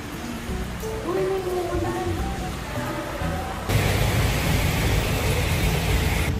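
Steady heavy rain hisses throughout during an outdoor fun run, growing noticeably louder and denser partway through, with faint voices underneath at the start.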